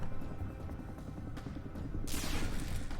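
A hull missile launches in the spaceship game FTL, a sudden loud whooshing blast after a stretch of low humming ship ambience.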